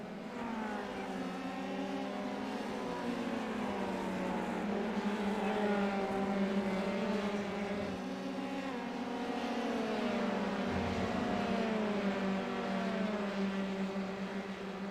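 Formula 3 race cars circling Circuit de Spa in a League Zero sim-racing series, engines blending into a steady, dense high-pitched whine with overlapping tones shifting as cars jostle, continuous and moderately loud with no talk.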